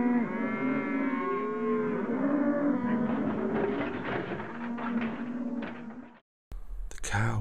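A cow gives a long, loud, drawn-out moo lasting about six seconds, close and clear with wavering pitch, then falls silent for a moment before a brief sharp noise at the end.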